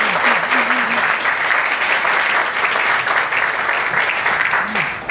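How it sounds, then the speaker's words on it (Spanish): An audience applauds to welcome a speaker at a Black History Month event at the ICPNA, dense, loud and sustained clapping from a large crowd, with a voice briefly heard under it. "Recibamos con un aplauso"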